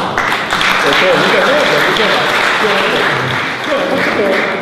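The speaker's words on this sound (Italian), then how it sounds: "accogliamo un applauso" An audience at a presentation in Agrigento applauds steadily and loudly, a thick continuous wash of clapping with voices mixed in throughout.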